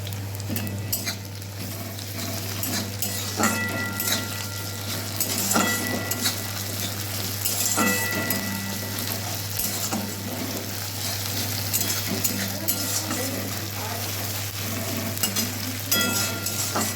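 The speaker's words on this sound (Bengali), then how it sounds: "এবার আমি এর মধ্যে আদা আর রসুনের পেস্টটা দিয়ে কিছুক্ষণ ধরে মশলাটা একটু কষিয়ে নেবো" Ginger garlic paste and browned onion fry in a pan, a steady sizzle running throughout with frequent scraping and clinks of a spoon stirring the masala close by.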